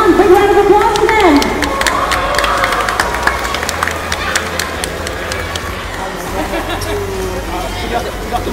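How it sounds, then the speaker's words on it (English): Crowd at a Tekken 8 tournament at a festival breaks into applause and cheering, a dense sustained wash of clapping with crowd babble, loud and close, following an announcer's voice at the start. "Big round of applause for them."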